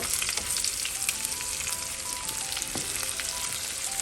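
Two ribeye steaks sear in a hot pan over medium-high heat with a steady, loud, close sizzle throughout and occasional faint pops. No one speaks.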